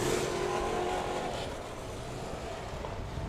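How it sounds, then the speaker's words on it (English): Figure 8 race cars on the track at Showtime Speedway, engines droning steadily at a distance in a dense, continuous roar with no voices. "All these figure 8 competitors race each other like they don't know each other."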